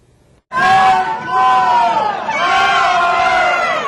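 Cyclone fans at a watch party inside a bar erupt into loud, sustained cheering and shouting after a moment of quiet, a dense crowd roar that holds steady to the end.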